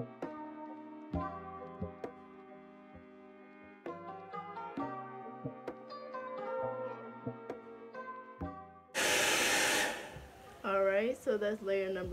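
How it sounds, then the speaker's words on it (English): A handheld hair dryer blowing on a glue layer of a deep wave wig install, a steady broadband whoosh that starts abruptly after music and runs close and loud in two bursts. "Just blow dry it till it feels a little bit tacky."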